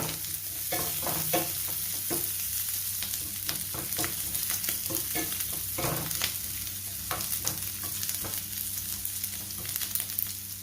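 Thai radish cake stir-fried in a pan makes a steady, close sizzle of frying with repeated scraping and stirring strokes, no talking.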